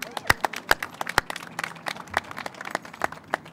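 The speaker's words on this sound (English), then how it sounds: "They deserve a little bit of applause here" A modest crowd at an outdoor bridge re-dedication ceremony claps for a few seconds, a scattered patter of individual hands with several sharp, close claps standing out.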